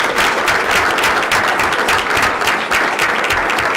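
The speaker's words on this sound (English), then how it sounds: "Let's give her a round of applause." A crowd at a school board meeting applauds loudly and continuously, a dense wash of clapping that holds steady throughout.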